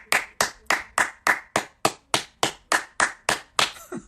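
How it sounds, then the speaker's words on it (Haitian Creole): Rhythmic hand clapping for young performers, about thirteen sharp, evenly spaced claps close by, steady and crisp, ending in a looser flurry. "mesdames, mademoiselles et messieurs, bat bravo pour la jeunesse"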